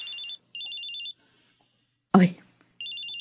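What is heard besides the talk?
cellphone ringtone ringing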